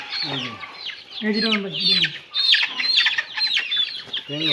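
Fayoumi chickens at a poultry farm in Habiganj, Sylhet, cluck continuously and loudly, with overlapping calls from several birds close by and a few deeper clucks mixed in.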